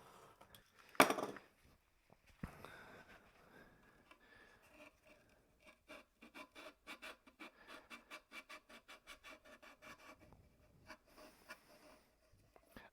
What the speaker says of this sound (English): Let me get some more sandpaper.